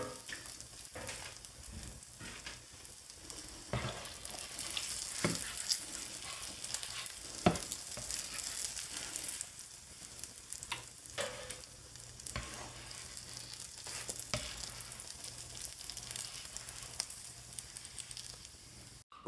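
Qatayef pancakes fry on a hot griddle with a steady close sizzle, broken by occasional light scrapes and taps throughout, with no talking.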